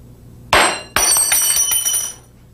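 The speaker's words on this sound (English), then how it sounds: "When a thermometer breaks," A glass laboratory thermometer breaks on a bench: a sharp crack is followed by a second, louder shattering burst and a bright tinkling spray of shards that rings on for about a second before fading, close and with no talk.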